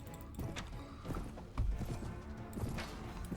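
Horses galloping in a battle in the video game Mount and Blade: Warband, with rapid hoofbeat clip-clops near and loud, mixed with clashing battle noise and thudding impacts.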